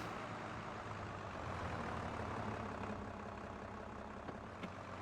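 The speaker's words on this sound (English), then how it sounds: "I love the sound of this tractor. I have loved it from the first day, because it sounds really, you know, powerful, diesel-like," A powerful diesel tractor engine runs at low RPM, a steady, deep idling rumble heard close and alone throughout, with only a faint tick or two near the end.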